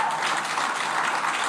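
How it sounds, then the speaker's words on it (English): An audience at a cannabis policy talk with a New York state senator applauds in a dense, steady burst of clapping. "yes, applause"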